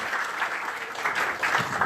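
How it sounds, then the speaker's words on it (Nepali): A crowd gives a round of applause at a live event, a dense, steady patter of many hands clapping together, moderately near and continuing throughout without letup. "जोडा तालीले सर्भ गरौँ उहाँको लागि"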